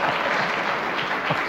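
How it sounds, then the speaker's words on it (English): A rousing round of applause from a live studio audience at a public discussion, a brief burst of dense, even clapping that carries steadily throughout. "that draws a rousing round of applause"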